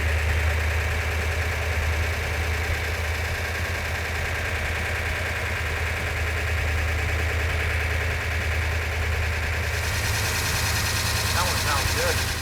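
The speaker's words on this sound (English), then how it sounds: "The engine sounds every bit as good as it did when it was on the engine run stand." A steady engine idles loudly and continuously, a low rumbling drone with a rough, rapid pulsing texture throughout.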